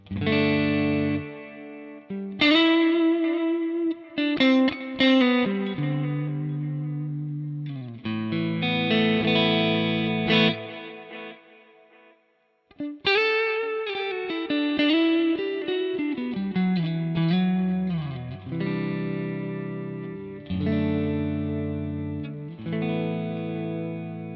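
Distorted electric guitar plays chords and single notes through a Tonex ping pong delay with the width turned up, with repeats trailing behind each phrase and no talking.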